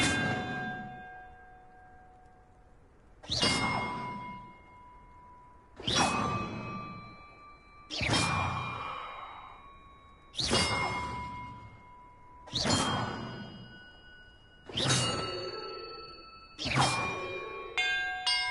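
Bells struck one at a time in Hogwarts Legacy, eight clear ringing tones spaced a couple of seconds apart, each bright chime with a whooshing attack and a long shimmering decay, the last few coming closer together.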